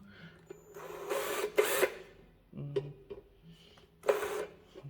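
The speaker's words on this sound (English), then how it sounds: "we're going to use auto centre punch" An automatic centre punch snaps against metal during a Triumph chopper fabrication job, giving a few sharp clicks in quick bursts close to the mic, with brief spoken remarks in between.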